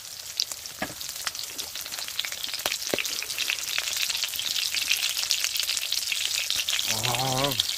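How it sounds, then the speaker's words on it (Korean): Close, crackling sizzle of oyster pancake batter frying in a pan at a car-camping site, steady throughout, with a brief voice near the end. "굴전 한번 먹어봐야 되겠다"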